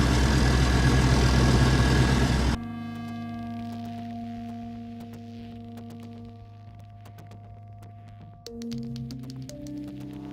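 Air suspension compressor on a classic Range Rover LSE, loud steady mechanical drone at first, then cutting off to a quieter humming engine idle with shifting tonal whines and a renewed rise near the end.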